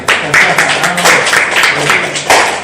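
Scattered clapping from a small group gathered in a church setting, several sharp bursts spread across a couple of seconds, fairly close and loud, with voices talking over it.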